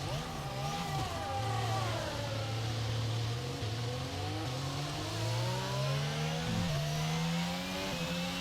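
An F1 car engine in F1 22 on PlayStation screams as it accelerates, a loud, steady high-revving whine climbing through several upshifts, up close and alone.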